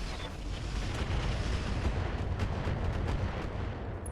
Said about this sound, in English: all we're going to really do here is fire in artillery mode on this Gallant